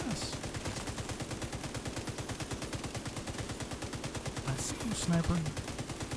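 Sustained rapid automatic fire from an M249 light machine gun in The Division 2, a dense regular rattle of shots going on throughout, with a brief spoken line from a player partway through.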